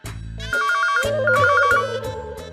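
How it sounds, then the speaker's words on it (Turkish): An electronic home landline telephone ring plays a short repeating melodic pattern of bright beeping tones, clear and close, with brief pauses between phrases. "Telefon çalıyor."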